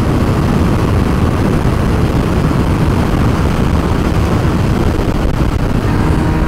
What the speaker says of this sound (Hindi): विंड ब्लास्ट बहुत ज़्यादा